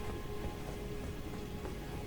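Rain falling in the video game Elden Ring, a steady, fairly faint hiss of rainfall over a low rumbling bed with a faint tonal hum, continuous throughout.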